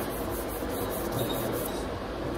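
Sandpaper rubs over a painted panel marked with guide coat during finish sanding, a continuous, close, even rasping scrape with no pauses and no voices.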